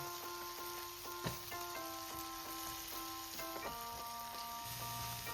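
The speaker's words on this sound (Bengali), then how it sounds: "এবার আমি পেঁয়াজের সাথে পটলটাকে ভালো করে মিশিয়ে একদম শুকনো হয়ে আসা অবধি বা কড়াই থেকে ছেড়ে আসা অবধি আমি ভালো করে এটাকে রান্না করে নেবো" Pointed gourd and onion fry in a wok with a steady, faint sizzle. Occasional light stirring clicks and a soft background hum run beneath it.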